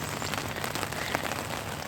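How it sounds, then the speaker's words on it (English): Steady rain drums on a small tent at a campsite, a dense continuous patter close overhead with no voices. "we need this rain to slow down"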